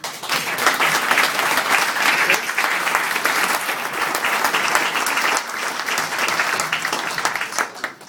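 An audience applauds the families at a ceremony, dense sustained clapping from a large crowd that stays loud and even for several seconds before tapering at the end.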